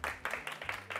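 Audience applause at a children's artists tribute show, a short burst of hand claps with several distinct loud claps in quick succession, close and lively.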